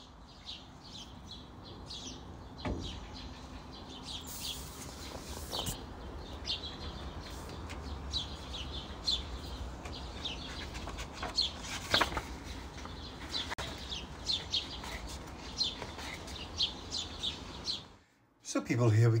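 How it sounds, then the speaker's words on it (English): Shy birds chirping and tweeting outdoors while being fed cake and bread cut-offs, repeated light calls at moderate distance over a soft background. "Very shy birds here."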